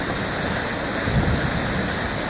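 The head of a flash flood rushes down the Santa Fe River, a steady, dense roar of turbulent water with no voices.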